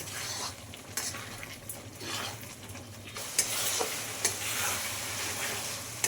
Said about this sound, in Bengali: মশলাটা সুন্দর করে কষে নিই, তারপরে চিকেন অ্যাড করব।